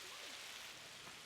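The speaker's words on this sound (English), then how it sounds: "It's raining now." Steady rain falling outside near a house, a soft, even hiss that continues without break and with no voices.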